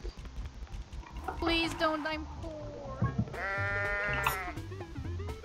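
Goats bleat in the video game Goat Simulator, Waste of Space DLC: several wavering, nasal bleats in quick succession with a loud voice shouting between them.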